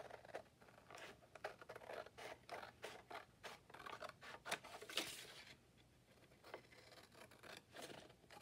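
Scissors trim paper for handmade journal cards, a close, quiet series of crisp snips and rustling scrapes in an irregular rhythm, with no talking.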